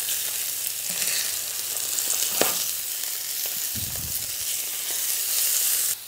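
Meat sizzling and frying in a pan for a creamy pasta, a close, steady crackling hiss with a few soft stirring scrapes and no talking.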